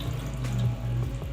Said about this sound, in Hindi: कलेजी और पोटा की कटिंग करने के बाद हम इसमें थोड़ा सा पानी